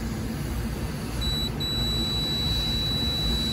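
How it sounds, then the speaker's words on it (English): A multimeter continuity test on HVAC compressor windings gives a thin, high electronic beep that briefly breaks off, then sounds steadily over faint background hiss and hum. "I got my beep on all three pairs"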